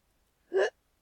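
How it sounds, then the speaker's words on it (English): A single short hiccup, close and fairly soft, alone in a quiet room. "Oh, hiccups for me."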